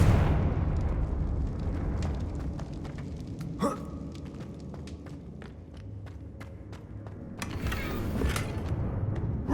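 A Confringo fire spell bursts in Hogwarts Legacy, a heavy explosive thump at the start, then scattered sharp impacts and a second crackling blast near the end over a low rumbling game background.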